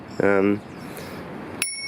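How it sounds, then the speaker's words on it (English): A short spoken exclamation, then one crisp, bright ding of a bicycle bell that rings out and lingers briefly. "Bell that works."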